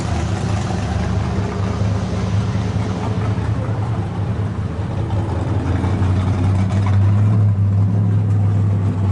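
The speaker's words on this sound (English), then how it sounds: "Little ass car sound like a tank." A small car's engine runs loudly and steadily with a deep, rumbling idle that holds strong throughout, close by, with no talking over it.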